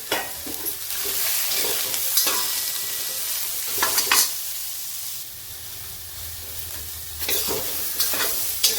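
A loud, steady sizzle comes from mixed vegetables stir-frying in a pan for a Marathi bhogi bhaji. Repeated spatula scrapes and tosses rise above it, with a quieter stretch in the middle. No speech is heard.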